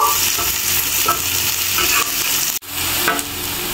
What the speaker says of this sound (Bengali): পেঁয়াজ আর রসুনটা আরেকটু সময় ভেজে নিব।